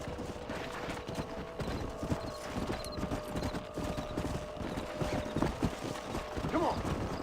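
Horse hooves clip-clop steadily in the Western video game Red Dead Redemption, a continuous close trotting rhythm over outdoor ambience, with brief talk underneath.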